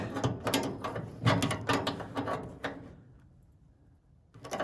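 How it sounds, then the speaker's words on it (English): Crescent wrench snugging a natural gas fitting on a Blackstone 36-inch griddle and air fryer combo, a run of close metallic clicks and scraping ratchet-like turns, then a quiet pause before one more clack. "put our crescent wrench on this side and get it up snug"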